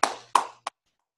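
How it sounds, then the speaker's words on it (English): Hand clapping during a live STEM session: three separate claps, the first two sharp with a short ringing tail and the third a smaller, quicker tap, then silence. "Let's give her a hand clap."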